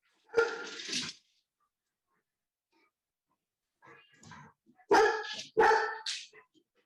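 A household dog, startled by someone arriving home, barks in several loud, close bursts: one early outburst, then after a quiet gap a quicker run of sharp barks, with near silence between them.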